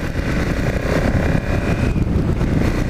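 KTM 990 Adventure motorcycle accelerating, a loud continuous engine roar mixed with heavy wind rush, steady and close throughout.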